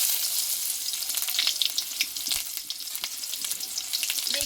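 Chopped onion frying in hot oil with black cumin seeds, a bright, dense close-up sizzle with crackling pops and occasional stirring sounds, steady throughout.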